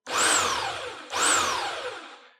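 A JCB RH1500 E electric breaker hammer runs freely off the surface, two bursts of loud whining motor that spin up and then slowly wind down.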